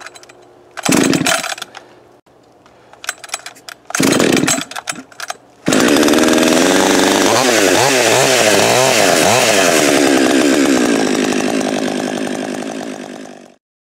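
A Husqvarna 562xp chainsaw fitted with a different decompression valve sputters through a couple of short bursts, then catches and runs loud and continuous, revving up and down in waves before idling back and cutting off.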